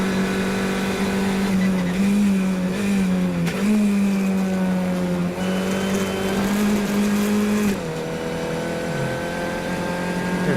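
Formula 1600 race car engine at Mont Tremblant revving hard, a steady loud drone with pitch climbing and briefly dropping at quick short-shift gear changes, continuous and close, no voices.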